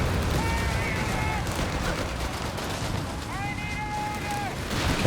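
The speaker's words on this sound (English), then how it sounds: "Getting that artillery off." Artillery and gunfire from a Company of Heroes 3 2v2 match boom and crackle continuously under dense battle noise, with whistling tones rising over the din twice.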